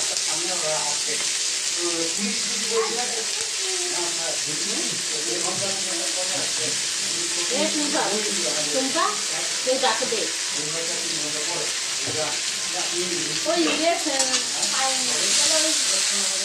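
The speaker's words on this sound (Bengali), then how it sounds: "আমি পেঁয়াজটাকে ভেজে নেবো গাইস" Onions fry in oil seasoned with tempering spices, a steady hissing sizzle that runs under almost continuous voices talking nearby.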